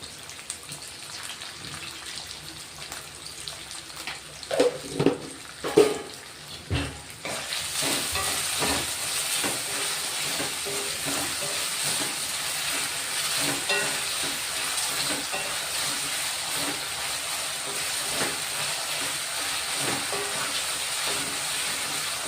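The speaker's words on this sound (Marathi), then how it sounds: "शेंगदाणे मिरची चांगलं भाजून घ्यायचं तेलामध्ये, मस्त परतून घ्यायचं खमंग." Peanuts, green chillies and finely cut potatoes roasting in hot oil, a steady loud sizzle throughout, with a few scraping stirs of a spatula near the start, close up and without speech.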